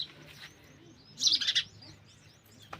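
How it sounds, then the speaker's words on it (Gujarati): Sparrow chicks chirping from a nest in a village: a quick burst of high, thin cheeps clusters in the middle, with fainter twitters before and after over a quiet background. "આ છે મારા ચકલા"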